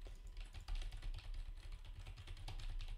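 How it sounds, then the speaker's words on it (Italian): Computer keyboard typing during an online MMO gaming session, a steady stream of close, rapid key clicks that runs unbroken through the whole moment with no talk over it. "lo sentite la tastiera?"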